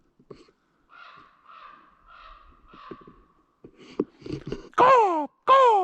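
A man on a trail imitates a crow with his voice, giving a series of breathy, hoarse caws that grow louder, ending in two strong, drawn-out calls close to the microphone.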